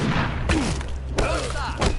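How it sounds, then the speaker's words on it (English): Bombing in the video game We Happy Few: several heavy thuds and blasts, three or four booms spaced through a short burst, loud and close, with game voices partly mixed in. "They're bombing us again!"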